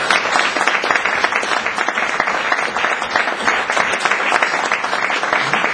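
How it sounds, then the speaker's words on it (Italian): An audience at a book presentation in Naples applauds, dense, even clapping that carries on loudly and steadily throughout, with no voices over it. "Quindi farei un bel applauso a Rosaria."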